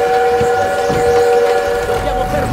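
A steam train in Call of Duty WWII rumbles loud and close, with steady whistle-like tones over the chugging throughout.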